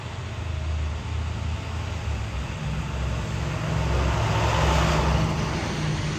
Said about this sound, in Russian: Школьный автобус едет.